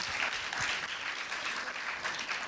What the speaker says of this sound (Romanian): Felicitări acestor copii minunați, premiați, aplauze pentru ei.